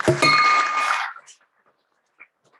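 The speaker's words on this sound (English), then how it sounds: "So I'd like to ring the bell and honor Joe for bringing that up" A single bell struck at a Rotary Club meeting in Oakland gives one bright, ringing strike with clear overtones that decays over about a second, followed by near-silence with faint room sounds.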